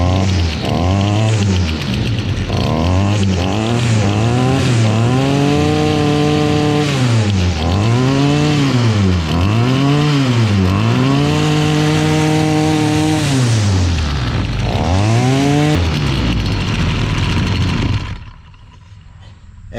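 A Stihl FS 38 grass trimmer's small two-stroke engine fires up and runs loud and close, revving up and down repeatedly in rising and falling whines before cutting off at the end.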